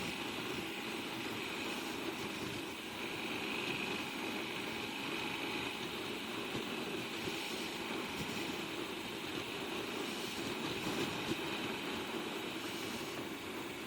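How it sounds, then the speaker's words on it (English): Yamaha Super Tenere motorcycle engine while riding, a fairly quiet steady drone with wind and road noise, no talking. "It is a good sounding motor, better than a V-Strom"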